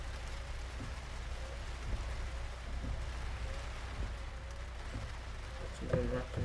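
Steady rain falls in Euro Truck Simulator 2, a constant hiss of drops on a truck with a low engine rumble beneath and a few small clicks near the end.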